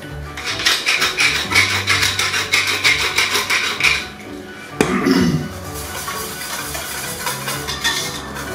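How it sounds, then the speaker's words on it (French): A cleaver works through cubed beef for tartare on a board, giving a quick run of scraping, rasping strokes, then a single sharp knock midway and a softer, steadier scraping afterward, close and fairly loud. "je mets un petit coup de couperet comme ça, vite fait, sans trop insister"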